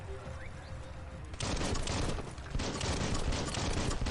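Rapid bursts of automatic gunfire crackle in the action game Biomutant, heavy continuous firing that kicks in abruptly and keeps going with a brief gap, loud and close.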